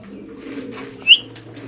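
Maxi blue checker pigeons coo in low, steady murmurs close by, with one brief sharp chirp cutting through midway.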